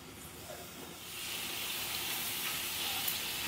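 Fish pieces going into a pan of hot oil, a steady sizzle that swells and stays loud after about a second, with no voices.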